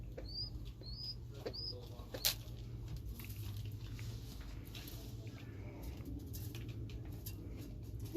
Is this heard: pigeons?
yes